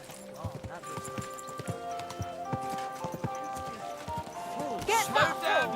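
Horse hooves clip-clop in a steady gait in the medieval game Kingdom Come: Deliverance 2, with a brief neigh near the end and a voice speaking over them.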